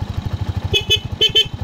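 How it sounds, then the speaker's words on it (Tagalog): Rusie Macho 175 motorcycle with a weak horn being tested, the engine idling in a fast steady putter while four short horn toots sound in two quick pairs near the middle. "So ating busina mahina, isa lang ang nagana."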